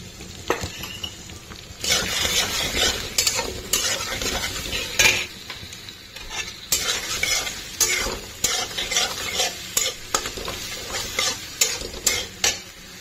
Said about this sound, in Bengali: এই দইটা এবার দিয়ে দেব আমার এই যে কড়াইয়ের মধ্যে যেটা আছে তার মধ্যে